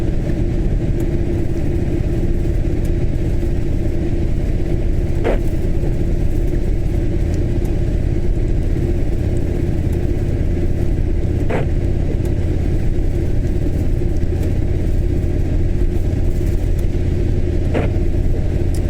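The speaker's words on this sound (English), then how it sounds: "the truck is coming off at Lathalan Interchange, which is above us." A truck and other traffic on the M9 motorway in Scotland's Falkirk district, near the Lathalan Interchange and roadworks: a constant low engine and tyre rumble, with a few brief, sharper passes at regular intervals.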